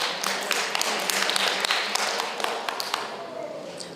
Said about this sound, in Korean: 우리 뜨거운 박수 부탁드리겠습니다.